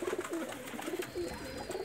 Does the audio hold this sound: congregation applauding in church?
no